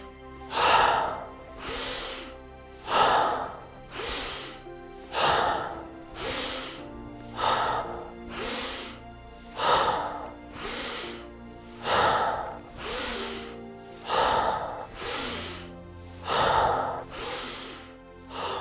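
Forceful, rhythmic breathing exercise: deep, powerful inhales followed by released exhales, repeating about every 1.5 seconds, close and loud with no talking.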